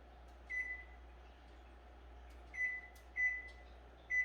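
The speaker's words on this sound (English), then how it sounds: "So just slide that in there and do our kitchen timer." A kitchen timer is set for chocolate chip cookies baking in the oven, giving four short, clear electronic beeps at uneven intervals over a faint steady hum, with no talking.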